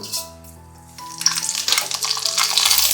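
Mustard seeds dropped into hot oil for a stuffed eggplant curry crackle and sizzle, starting quietly, then building to a dense, bright fizz that grows louder and keeps spitting to the end, with no voices.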